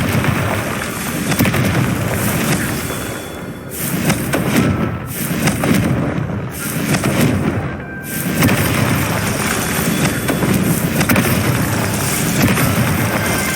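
The Confringo explosive spell is cast in Hogwarts Legacy during a beasts class outing, loud booming blasts and rumbling thumps layered over a dense, continuous battle-like wash with brief dips between bursts.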